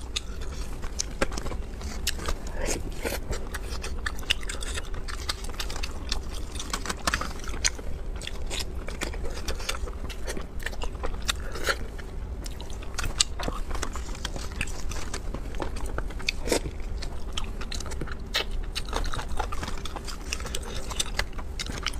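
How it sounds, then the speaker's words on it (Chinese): Salt-baked chicken is eaten up close, with steady wet chewing, biting and small crunchy crackles repeating rhythmically over about twenty seconds, no talking. "今天吃个盐焗鸡"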